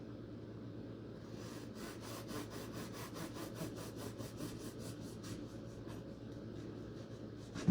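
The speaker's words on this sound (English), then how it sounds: "Try to cut off a couple slices." A knife saws slices off a white sandwich bread loaf with a steady run of soft, rhythmic scraping strokes at close range, quiet and alone over a low background hum.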